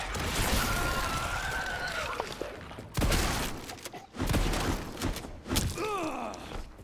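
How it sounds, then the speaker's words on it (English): A shotgun fires in Resident Evil Requiem, with several sharp broadband blasts heard in quick succession among growling creature noises and game effects. "Shotgun."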